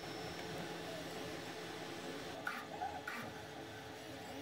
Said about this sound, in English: The extruder motor has no trouble pushing the filament through the hot end at the required speed.